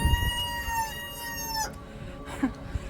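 A rooster at a homestead coop crows once in a long, loud call, followed by a few soft clucks from laying hens nearby.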